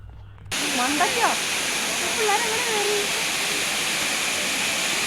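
Rushing water of a waterfall at Vattavada fills the scene as a broad, steady roar beginning abruptly after a brief quiet moment, with a person speaking briefly over the noise early on.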